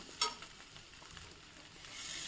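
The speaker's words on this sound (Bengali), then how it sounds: "আমি পেঁয়াজ সহ আলুটাকে কিছুক্ষণ একটু ভেজে নিয়ে নেব" Potatoes and onion fry in a pan with a faint, steady sizzle. A soft stir or clink comes near the start, and the frying is heard alone without speech.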